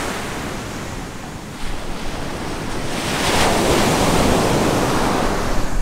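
Ocean surf on the wide beach at Puerto Escondido, Mexico, roars as a steady, loud wash of breaking waves, swelling stronger in the second half, with wind buffeting the microphone and no talking.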